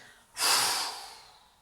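One forceful exhalation during a sophrology breathing exercise, a sudden breathy rush of air pushed out close to the microphone that fades over about a second.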